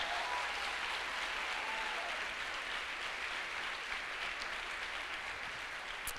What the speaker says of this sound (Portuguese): aplaude o Senhor aí, vai